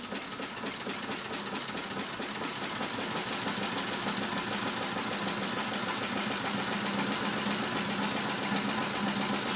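A gas-fired Mamod SP7 steam engine drives a Meccano warehouse model through belts, giving a steady, busy mechanical chuffing and clatter with a fast, even rhythm that runs unbroken throughout.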